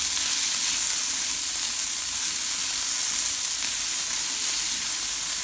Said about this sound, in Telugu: జస్ట్ 2 మినిట్స్ అలా సాట్ చేస్తాము.